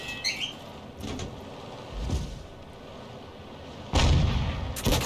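Artillery fire in a World War II tank battle video game: a heavy shell report with a long rumbling tail, then a second loud blast near the end, alone without any talk.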